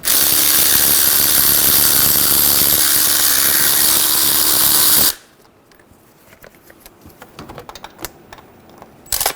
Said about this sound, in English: Using a 14mm socket, remove the bolts for the transmission mount, going to the transmission.